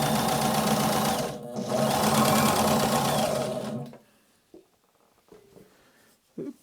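A sewing machine runs loud and close, punching needle holes through automotive upholstery vinyl without thread, in two steady bursts with a short break between, then stops and only a few faint clicks and handling knocks follow.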